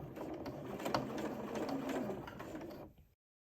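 A sewing machine runs in a steady, fast mechanical whir while edge stitching a sleeve casing, close and moderately quiet, stopping abruptly after about three seconds.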